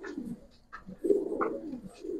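Giribaz pigeons coo in soft repeated bursts, close and fairly quiet, with a few faint chirps around them.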